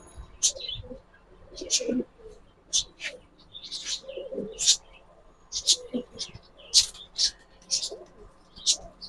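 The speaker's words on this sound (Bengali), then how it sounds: "অনেক সুন্দর একটা কবুতর, এটা মাদি কবুতর।" Giribaz pigeons, including a female, give repeated soft coos and short high chirps at close range, while voices talk in the background.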